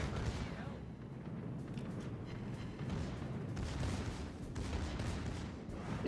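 Battleship secondary guns firing in World of Warships: Legends, with Atlantic Coast secondaries engaging an enemy ship: a dense, continuous rumble of overlapping booms and gunfire, loud and sustained throughout.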